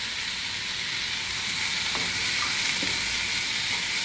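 Steady, loud sizzling of a tempering in hot oil for a Jaffna-style eggplant curry, a continuous bright hiss with a few faint pops and stirs, no voices.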